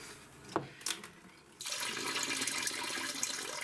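Water gushes out of a hose in an off-grid laundry setup, starting with a few short splashes, then running as a steady broadband rush that holds to the end.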